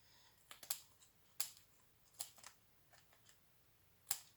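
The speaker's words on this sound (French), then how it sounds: "Je vais couper ce qui déborde parce que je ne veux pas garder ce qui déborde." Scissors snipping through card to trim overhanging edges in a craft project, a handful of crisp, close, separate cuts spaced irregularly over a quiet background.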